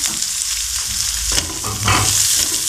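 Potato, capsicum and onion frying together in a pan, giving a steady close sizzle with stirring that swells in brief bursts, and no talking.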